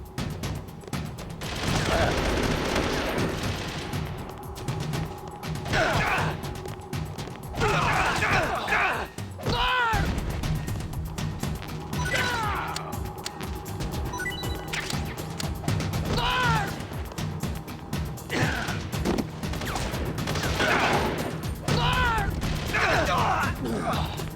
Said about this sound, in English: I'm telling you, shoot!